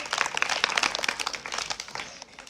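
Students at a government school quiz in Bihar break into applause, a dense patter of many hands clapping close by that slowly thins out toward the end.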